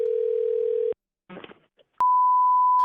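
A steady telephone dial tone sounds when calling a coin shop, stops, then a short burst of dialing follows and a steady ringback tone takes over, loud and close on the line.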